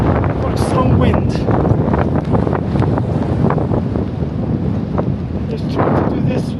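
Strong gusty wind on Rainbow Mountain in Peru buffets the microphone in a constant loud rush, with rough rumbling bursts rising and falling throughout.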